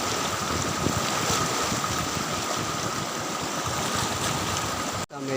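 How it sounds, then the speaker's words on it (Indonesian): The fast, swollen Cijalu river rushes in a dense, unbroken roar close by, ending abruptly with a brief knock at the very end. "karena airnya sangat deras"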